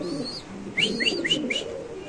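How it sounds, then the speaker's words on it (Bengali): Red Bombay pigeons at a breeder's loft give a quick run of four soft, rising coos and chirps, faint and close, over a low background murmur. "এটা খুব সুন্দর একটা কবুতর"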